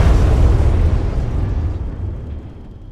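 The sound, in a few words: medium nighttime explosion in video game Arma 3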